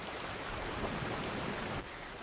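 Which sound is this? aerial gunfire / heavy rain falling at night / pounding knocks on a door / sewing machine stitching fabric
heavy rain falling at night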